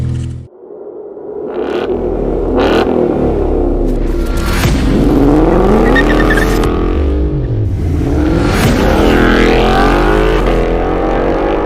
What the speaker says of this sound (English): we'll fire it up, go for a drive, show you how she sounds on the inside